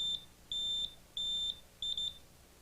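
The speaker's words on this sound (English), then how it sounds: "Press the buzzer key. 2 short bleeps for black and 1 long for white." Buzzer on a Brother KH-930 electronic knitting machine sounding a pattern check: a short beep, two long steady bleeps, then a quick double bleep, clear and close with no talk.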